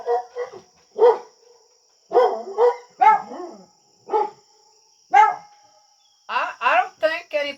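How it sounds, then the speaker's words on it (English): Dogs bark in short separate bursts, several sharp barks and yips spaced irregularly at close range, with a quick cluster of barks near the end and quiet gaps between. "The dogs are saying happy birthday, Emily."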